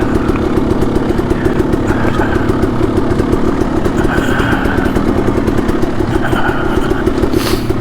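A Kawasaki KLX140RF dirt bike idles with its clutch dragging, giving a steady, rapid single-cylinder chug that stays close and loud on a canyon single track.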